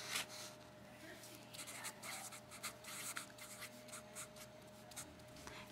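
A pen scratches across paper in soft, irregular strokes and taps, close and quiet, with a faint steady hum underneath.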